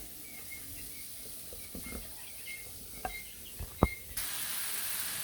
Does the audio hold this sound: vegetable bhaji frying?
yes